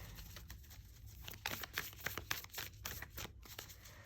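Tarot cards are shuffled by hand in a quiet room, giving soft, irregular papery riffles and slaps that come in a cluster of quick bursts near the microphone.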